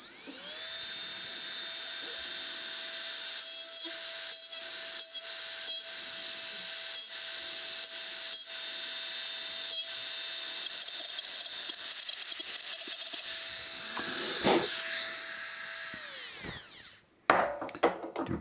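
Steady high-pitched whine of a rotary deburring tool working a metal part held on a magnet, running continuously for about seventeen seconds with small stutters where it bites the edge, then winding down and stopping, followed by a few brief handling clicks.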